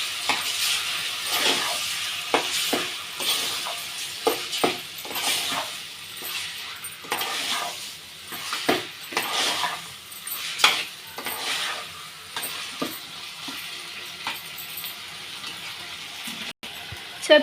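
Chicken curry being stirred in a pan at home, a spoon scraping and clinking against the metal in irregular bursts with a soft sizzle underneath, close and fairly quiet, no talking.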